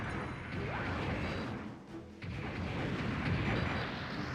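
Bomb explosion in the Mobile Suit Gundam: Journey to Jaburo video game, a loud, sustained, roaring crash that briefly dips before the rumble swells again.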